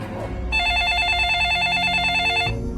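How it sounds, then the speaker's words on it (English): A warbling electronic phone ring trills steadily for about two seconds over a low background rumble, fairly loud and close. "And the phone rang"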